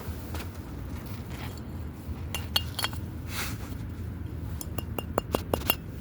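A glass bottle handled among bricks and debris at an old train platform gives several faint, sharp clinks, scattered early and then a quick cluster near the end, over soft outdoor background noise.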